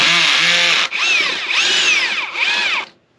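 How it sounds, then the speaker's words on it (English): A power drill with a T25 bit runs in loud high-pitched whirring bursts, spinning up and revving unevenly three or four times before stopping, with no talking over it. "My drill here, it looks like it wants to wobble for me."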